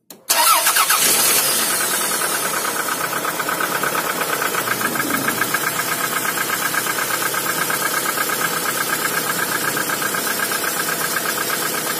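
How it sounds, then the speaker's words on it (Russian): A cold Toyota RAV4 engine starts in snowy weather: a brief crank catches fast and settles into a steady idle, with a light rhythmic ticking running through it and no talk. "сейчас пробую запустить двигатель"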